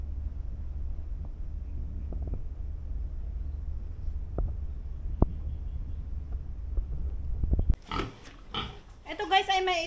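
Low wind rumble with a few faint knocks, then pigs grunting and squealing nearby in the last couple of seconds.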